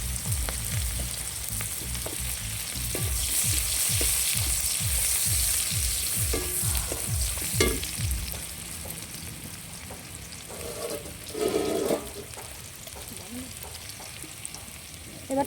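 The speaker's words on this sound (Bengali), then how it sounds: "এবার পেঁয়াজটা দিয়ে দেবো। পেঁয়াজটা একটু ভাজা ভাজা হবে" Onions dropped into hot oil in a pan sizzle and fry loudly and steadily for the whole stretch, with stirring scrapes and rhythmic clatter early on, while cauliflower is being cooked.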